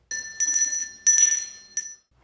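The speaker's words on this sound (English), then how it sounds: "A bell." Handheld bell rung by a Salvation Army volunteer at a holiday kettle collection, four bright metallic rings in quick bursts, each with a clear ringing tone that decays before the next, close and loud with no talk.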